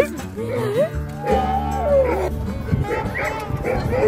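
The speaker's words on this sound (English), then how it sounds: "Oh, it's a dog." A husky yips, whines and bow-wows in short excited bursts at close range, its howl-like calls rising and falling, with a person speaking in between.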